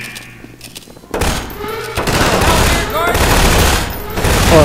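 Automatic gunfire from a Half-Life 2 firefight rattles loud and close in sustained bursts, with a quieter lead-in before the shooting swells after the first second and keeps up to the end.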